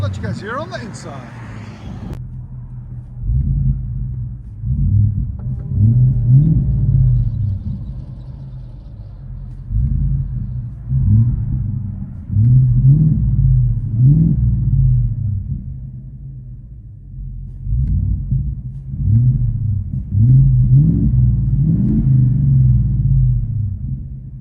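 A 2025 Ford F-250 Tremor with a 7.3L V8, X-pipe and Borla ProXS exhaust rumbles from inside the cab, a deep idle swelling into several loud revving surges and falling back, with brief talk near the start.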